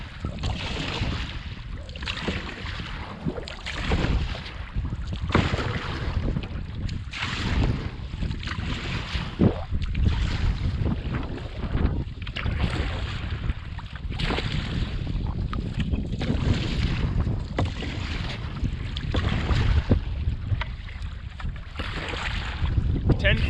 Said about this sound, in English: Windy. Probably gonna have to paddle pretty good.